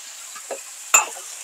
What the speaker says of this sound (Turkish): Şimdi kestiğim domateslerimi üzerine ekliyorum.